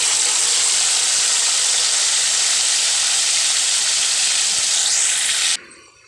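Ground onion paste sizzles in hot oil in a kadai, a loud, steady, bright hiss that fills the space for over five seconds before abruptly dropping away.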